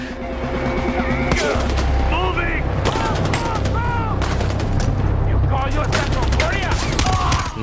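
Rapid bursts of gunfire in the video game Far Cry 4, loud and dense with repeated sharp shots over a low rumble and game music, while a voice talks intermittently.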